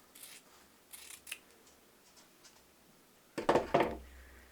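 Scissors cutting a point into a fabric strip for a project bag, a few faint snips followed by a louder cluster of crisp blade closings near the end, close and alone.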